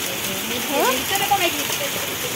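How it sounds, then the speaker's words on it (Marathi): Steady heavy rain with hail hisses across the whole clip, with a person's voice briefly rising over the downpour. "गाऱ्या किती पडलेत काय. काय पाऊस म्हणायचा हा."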